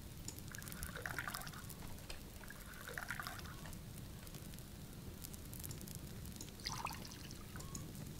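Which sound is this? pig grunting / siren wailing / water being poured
water being poured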